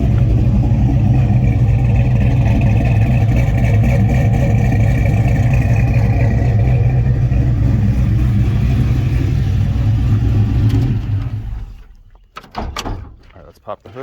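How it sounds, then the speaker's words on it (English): An LS-swapped OBS truck engine idles with a loud, steady, deep exhaust rumble for about eleven seconds, then cuts off, leaving a few faint knocks and clatters. "let's hear the exhaust"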